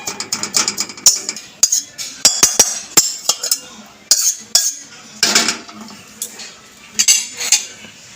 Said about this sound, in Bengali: খালি কড়াই আবার বসিয়ে দিয়েছি